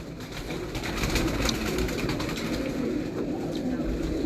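Racing pigeons cooing amid a busy outdoor loft, soft repeated coos under steady broadband noise and occasional wing flutters, with a faint voice in the background.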